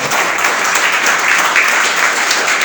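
Congregation applauding during a church sermon, a loud, sustained wash of clapping from many people in the hall, with no talking over it.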